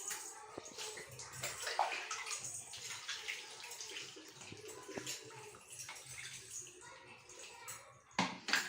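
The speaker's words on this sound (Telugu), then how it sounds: "ఇప్పుడు వాటర్ పోసేసుకోండి." Water is poured over a small child during a traditional Indian bath after shampoo and a flour scrub, splashing and trickling fairly close, mixed with faint child sounds and an adult voice talking.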